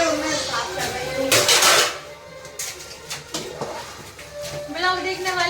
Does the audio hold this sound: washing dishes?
yes